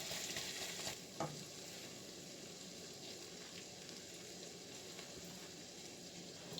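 Mushrooms and minced garlic frying in a pan, a faint, even sizzle with a couple of soft stirring knocks near the start, quiet and with no voices.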